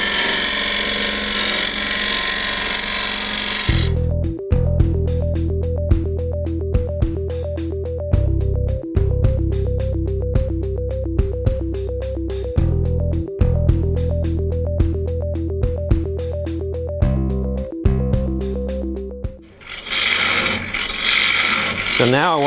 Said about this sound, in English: I'm just taking my carbide here and just clearing out some of the